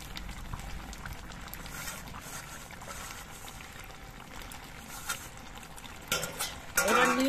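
Neem leaf powder stirred into simmering neem shukto, a soft bubbling and stirring texture under low background noise, followed by a few utensil clinks and scrapes against the pot at the end.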